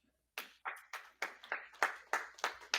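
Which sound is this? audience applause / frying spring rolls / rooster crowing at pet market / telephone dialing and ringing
audience applause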